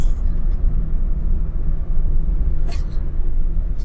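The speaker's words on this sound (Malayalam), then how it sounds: "ഫോർത്ത് ഗിയറിലോട്ടും നമുക്ക് ഗിയറിനെ മാറ്റി വരാം" A manual-gear car's engine is shifted up into fourth gear on an open road. It makes a loud, steady cabin rumble with a brief higher-pitched mechanical blip partway through.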